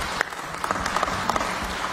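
A church congregation claps hands in praise during a Sunday morning service, a steady dense applause with scattered sharper claps throughout.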